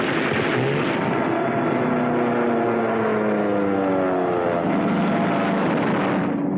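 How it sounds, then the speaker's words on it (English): Propeller-driven WWII military aircraft taking off from an airfield, a loud continuous engine drone with a rising and shifting pitch that fades slightly at the end, heard through old film-soundtrack hiss. "Whenever the fields were dry enough, our planes took off to tackle the Luftwaffe."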